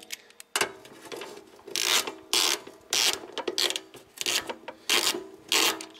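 Ratchet wrench loosening 10 mm bolts on the plate of an RV power converter, close and loud, a series of quick clicking bursts separated by short pauses, with no talking.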